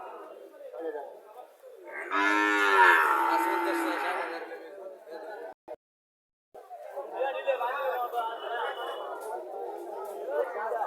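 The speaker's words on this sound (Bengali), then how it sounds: "এখানে দুইটা বাছুর দেখা যাচ্ছে" Heifer calves of the Shawal breed at a cattle market in Comilla, one long close moo over the crowd chatter, with people talking nearby throughout.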